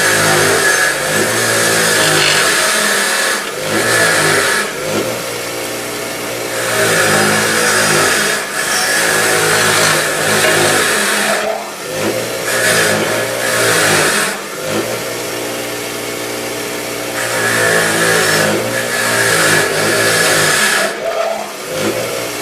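Power grinder whirring during a rear brake job on a Nissan Murano, a loud continuous whine rising and dipping in several bursts with short pauses, no talk.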